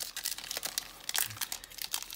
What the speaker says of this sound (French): On enchaîne les ouvertures, il n'y a rien dans ces boosters